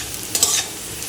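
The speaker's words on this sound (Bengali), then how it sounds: "এই যে পেঁপে আর আলু ভাজা করছি" Papaya and potato pieces frying in a pan give a steady, soft sizzle with a brief stir or scrape in the middle, close but fairly quiet.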